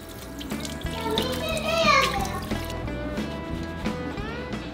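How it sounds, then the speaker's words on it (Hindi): Running tap water splashes in a sink as a young girl washes her face, a close, continuous gush with small splashes, while children's voices talk over it. "अभी बस मुंह धो लेना है।"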